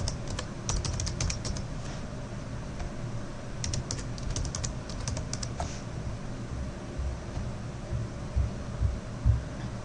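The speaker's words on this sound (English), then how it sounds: "So we'll type those in." Fingers typing on a computer keyboard to enter a login, quick clusters of light key clicks with pauses between bursts over a low steady room hum, close and without speech.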